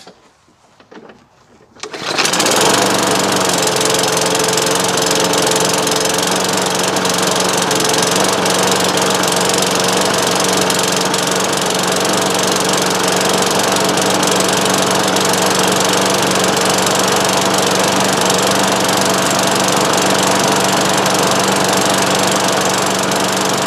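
A gas lawn mower whose carburetor had a fuel problem from stale gas starts after a brief quiet spell, then runs loud and steady with a constant engine drone that carries to the end without a break.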